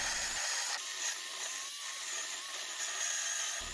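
A battery chainsaw finishes cutting through a 6x6 hardwood beam near the ground, a steady high buzzing whine with a faint rasp of wood, held continuously and moderately loud with no talking.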